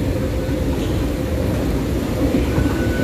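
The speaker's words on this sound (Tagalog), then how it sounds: "nandito tayo sa loob ng tren sa Lindsay" Steady low rumble and clatter inside a moving train in Lindsay, a constant broadband roar with faint rhythmic knocks and no speech.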